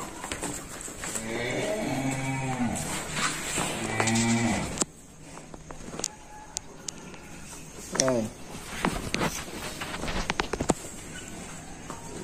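Three young bulls, about nine months old, moo at a cattle farm in Vietnam, with long, loud, close calls early on and another low bellow later, while someone talks between them.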